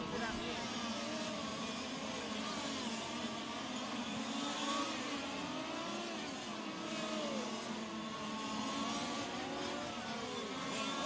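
Engines of 1/5 scale on-road RC racing cars buzz and rev as the cars lap a track at a world championship final, a continuous layered whine of several engines rising and falling under a commentator's voice.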